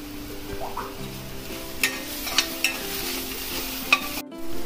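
Spiced rice tempering with coriander stirred in a pan: a low continuous sizzle under repeated spatula scrapes and a few sharp clinks against the pan, close by.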